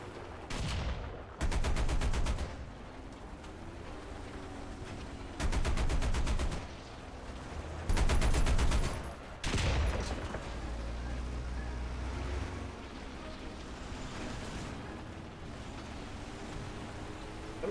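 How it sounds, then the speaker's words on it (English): Bursts of gunfire in the War Thunder tank game: several dense rapid-fire volleys about a second long each, loud and close, separated by a steady rumbling engine-like background. "Somebody's shooting at us."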